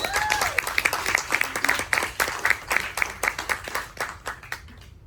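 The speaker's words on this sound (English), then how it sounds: "Please, a round of applause to all of our volunteers today." Festival audience applauding the volunteers at a Latino film festival's animation day, a clear burst of many hands clapping that thins and fades out over a few seconds.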